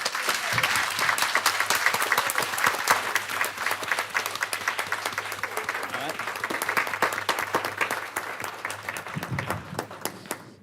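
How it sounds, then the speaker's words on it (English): Sustained applause from a room full of people at a village board meeting, steady and loud for the whole stretch, with a few voices mixed into the clapping. "I think John deserves a round of applause."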